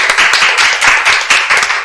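A studio audience claps for a guest named Bu Siska, a quick burst of brisk, fairly close hand claps from a small crowd, loud and continuous for under two seconds with no talk over it.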